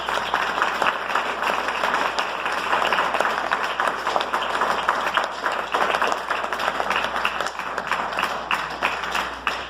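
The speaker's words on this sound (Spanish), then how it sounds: "¿Pueden darle un aplauso al Señor" A church congregation claps together at a worship service, a dense, steady wash of hand claps filling the room at a fairly close, even level throughout.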